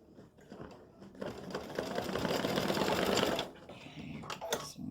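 An embroidery machine stitches a design onto card stock with a steady, close, rapid mechanical chatter that runs for a couple of seconds and then stops. Lighter clicks and handling sounds come before and after.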